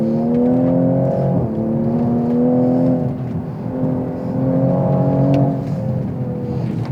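A Toyota Supra RZ with its six-cylinder engine accelerates on a wet mountain pass, a loud, steady onboard drone that climbs in pitch through two long pulls with a brief shift between them.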